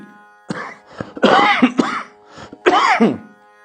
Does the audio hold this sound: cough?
yes